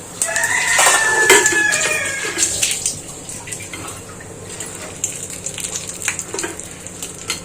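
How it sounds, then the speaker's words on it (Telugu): Mustard seeds and cumin spluttering in hot oil for a tempering, with crackling pops and hissing loudest in the first few seconds, then settling into a softer, scattered crackle. "ఆవాలు జీలకర్ర వేసుకుని అవి చిటపట్ల ఆడుతున్నప్పుడు"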